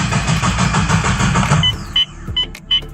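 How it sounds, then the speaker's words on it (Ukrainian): A car engine cranks with the clutch pedal held to the floor and the accelerator pressed, a steady mechanical churn for about a second and a half that cuts off, followed by a few short electronic beeps. "Ми зажимаємо однією ногою щеплення до кінця другою ногою нажимаємо на газ. І крутимо."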